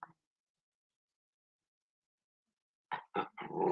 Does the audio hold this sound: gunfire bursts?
no